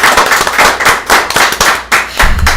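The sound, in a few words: audience applause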